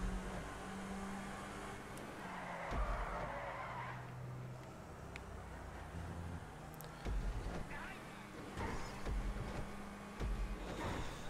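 A small car drifting in GTA V Online gives engine drone with intermittent tire skids and screeches, moderately loud, while players talk over it.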